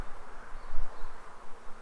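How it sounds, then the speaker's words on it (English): A large swarm of honey bees buzzes loudly and close by, a dense, continuous drone that wavers in strength as the insects move, with no voices. "Man, that's a good swarm right there."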